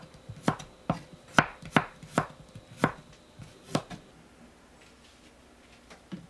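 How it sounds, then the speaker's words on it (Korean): Garlic cloves being sliced into thin pieces with a knife on a cutting board, about eight crisp, evenly spaced chops up close, then a quiet pause. "마늘은 편으로 썰어서 준비합니다."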